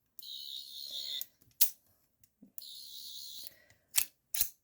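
A sonic screwdriver prop replica, the 11th Doctor model, is flicked open with a bright whirring zip then snapped shut with a sharp clack, twice in succession, close up with no talk.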